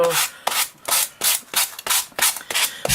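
A sheet of sandpaper rubbed along the edge of a paper tag in quick back-and-forth strokes, about eight rasping passes in a steady rhythm, loud and close with no talk.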